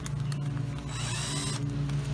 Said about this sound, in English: make sure that you use a drill and not an impact